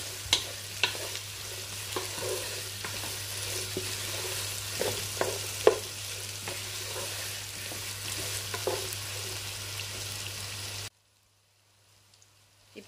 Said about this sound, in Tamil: இது பொன்னிறமாகும் வரைக்கும் நாங்கள் இதை வதங்க விடுவோம்.